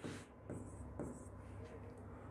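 Pen or marker scratching steadily while an equation is written out during a math lesson, a continuous close scribbling sound with short pauses between strokes.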